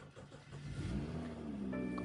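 A 2018 BMW X5 xDrive35i with a weak, discharged battery cranking and catching, the engine firing into a low steady idle that builds and holds, fairly quiet with no talk.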